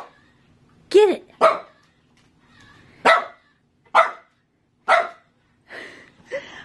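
A dog barks close and loud in about six separate sharp bursts with pauses between, one rising into a yelping whine; a person's voice is also heard briefly.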